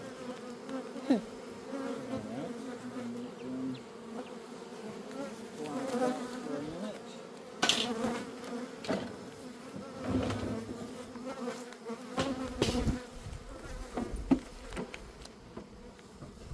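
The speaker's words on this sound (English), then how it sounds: "And then the second you walk back over here, it's buzz, buzz, buzz." Honey bees swarm around a backyard beehive holding full honey supers, a loud, steady, close buzzing hum that rises and falls over the whole stretch, with a few brief knocks and handling sounds mixed in and no talking.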